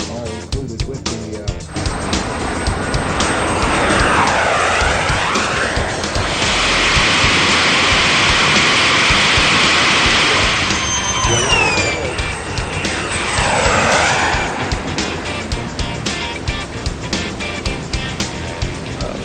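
Jet aircraft engines roar at the Florida Jets airshow, a loud, sustained rushing whine that swells and fades as planes pass, with crowd noise and a voice speaking underneath.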